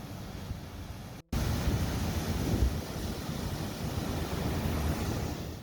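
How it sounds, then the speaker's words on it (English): Fenelon Falls waterfall in winter gives a constant, full rushing roar of falling water with wind buffeting the microphone, one brief dropout near the start, then an unbroken steady wash. "Gorgeous waterfalls any time of the year."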